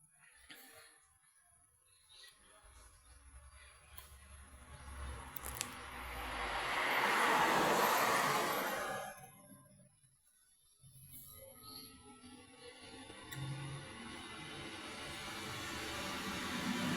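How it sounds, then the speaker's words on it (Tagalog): An airplane passes overhead, a broad rushing roar that swells to a peak midway and then fades, distant and moderately loud over quiet background. "May dumaan pong eroplano."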